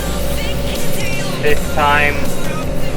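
A Case Maxxum 150 tractor pulls a 4-furrow reversible plough while ploughing for fodder beet. Its engine gives a steady, heavy low drone throughout, with a voice talking over it.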